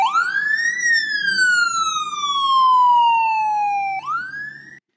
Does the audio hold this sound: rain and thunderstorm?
no